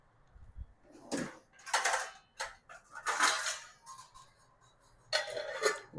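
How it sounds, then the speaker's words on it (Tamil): A metal lid goes onto a cooking pot in a home kitchen, producing several close clattering, scraping knocks in separate bursts with short quiet gaps between. "இந்த மாதிரி ஒரு மூடியை போட்டு மூடி வச்சுருங்க"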